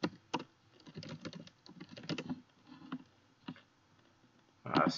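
Fast, irregular bursts of keyboard typing clatter close up, pausing briefly between runs of keystrokes, with no voices.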